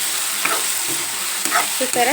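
Chicken seasoned with salt, chili powder and turmeric sizzles loudly in a frying pan while a utensil stirs it with scraping strokes, and a voice speaks one brief word.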